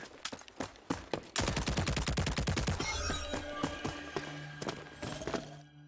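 Gunfire in the shooter game Rogue Company, a fast burst of loud close automatic shots, then scattered single shots and impacts over ringing game sounds.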